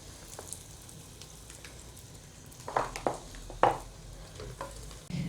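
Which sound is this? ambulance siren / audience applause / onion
onion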